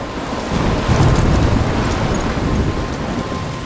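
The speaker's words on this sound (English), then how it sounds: "I'm trapped in a storm?" A steady, loud wash of rain with a deep rumbling swell of thunder in a thunderstorm in the video game Life is Strange, continuous throughout with no voices.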